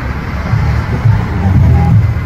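Vehicles flow across a lift bridge that has just been lowered back into place, giving a steady low traffic rumble with slight swells as cars pass nearby.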